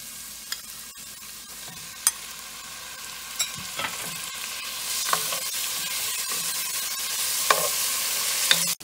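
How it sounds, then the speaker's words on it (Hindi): Two medium tomatoes stir-frying for kofta masala, a steady pan sizzle that builds louder, with occasional clicks and scrapes of a spoon against the pan and no talking. "अभी हम टमाटर डालेंगे और ये 2 मीडियम टमाटर हैं।"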